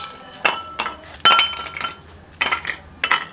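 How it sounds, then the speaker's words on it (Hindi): Ice cubes are dropped into drinking glasses for a raw mango drink, making a handful of close, crisp glassy clinks spaced irregularly, each with a short ringing tail. "गिलासों में डालेंगे बर्फ़।"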